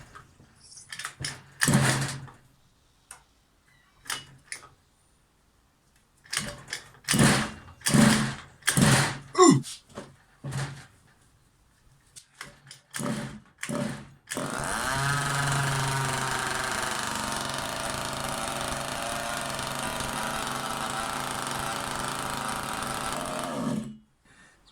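A custom Rovan 30.5cc engine with fuel and exhaust hooked up, sputtering through several short bursts of firing before catching and running steadily for about ten seconds, then cutting off; a brief exclamation is heard early on.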